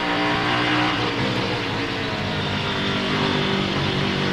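The number 10 SunTrust Dallara race car, a Grand-Am Rolex Sports Car prototype at the 2008 Armed Forces 250, roars at full throttle on a long downhill, a loud, sustained, high-revving engine note with nothing else over it.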